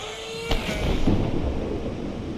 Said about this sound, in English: why did it sound like thunder?